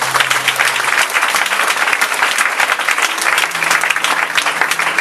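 A church congregation claps loudly and steadily for the full five seconds, dense applause filling the room with no pause.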